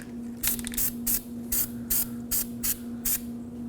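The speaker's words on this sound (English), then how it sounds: "we wanna go ahead and spray the hub with some Never Sees" Anti-seize spray applied to a car wheel hub in short aerosol bursts, about eight quick hissing puffs in an uneven rhythm, close up, over a steady low mechanical hum.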